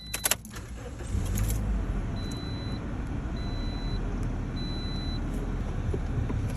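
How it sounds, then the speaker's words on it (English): A 2010 Toyota Corolla engine starts: a brief burst of cranking and keys right at the start, then the engine settles into a steady, moderately quiet idle hum. "I'm gonna go ahead and turn on the car."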